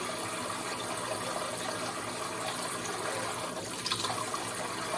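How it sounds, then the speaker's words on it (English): Liquid poured steadily into a container, a continuous close watery rush filling the whole stretch with a slight swell near the end, no talking. "I poured a lot more in here than I thought I would."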